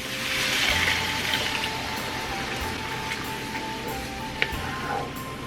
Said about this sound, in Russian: Далее заливаем воду.